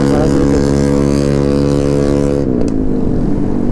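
A loud motorcycle with a loud aftermarket exhaust holds a steady, throaty drone up close, then the pitch drops as the engine eases off near the end.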